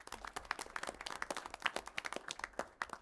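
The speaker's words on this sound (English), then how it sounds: "Another round of applause for everybody that got recognition tonight." Modest applause from a school board meeting audience honoring recognized people, a scattering of distinct claps with quieter patches between them, no talk over it.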